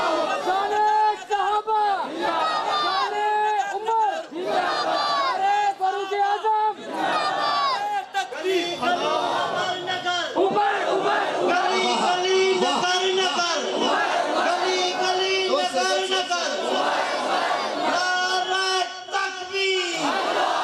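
A large crowd at a religious gathering in Basti Dewan Wala, Khangarh, chants slogans for Hazrat Umar in loud, sustained unison. The rhythmic voices rise and fall continuously and are close and dense throughout.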